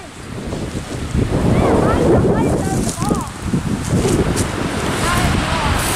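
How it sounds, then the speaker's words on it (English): Strong wind while kite flying buffets the microphone in a constant rushing roar, with voices talking faintly underneath. "Windy enough."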